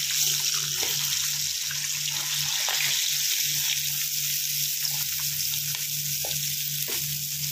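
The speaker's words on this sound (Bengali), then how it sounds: "মাছ আমার মোটামুটি ভাজা হয়ে গেছে" Pieces of katla fish fry in oil in a very hot kadai, giving a steady, close, even hiss and sizzle with faint clinks now and then and no voices.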